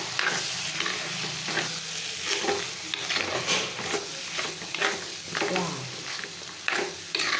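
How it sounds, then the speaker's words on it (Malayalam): Curry masala with pepper is stirred in a pan, making a continuous close sizzle with rhythmic scraping and stirring strokes throughout. "ഇനി നമുക്കിങ്ങനെ നന്നായിട്ടൊന്ന് ഇളക്കി കൊടുക്കാം കേട്ടോ"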